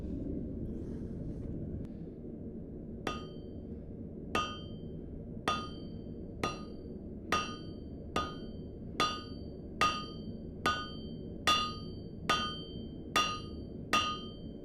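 Blacksmithing hammer strikes on metal at a forge making garden tools: about a dozen evenly spaced ringing blows, steady and close, over a low background hum.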